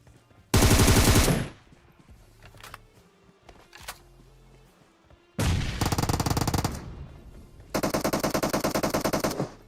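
Automatic gunfire in the PUBG Mobile shooter game, rapid loud bursts of rattling shots in three long strings separated by quieter gaps with a few isolated pops.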